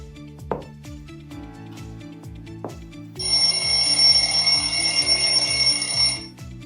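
A classroom timer's alarm goes off once the countdown ends, a bright sustained electronic ringing that holds steady for about three seconds over a repeating ticking beat.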